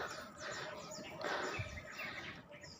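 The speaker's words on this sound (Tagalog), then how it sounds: "Sarap ng pakinggan yung mga huni ng ibon." Faint bird chirps and calls ring out in woods on Lignon Hill, several short tweets overlapping over soft outdoor background noise in a quiet natural setting.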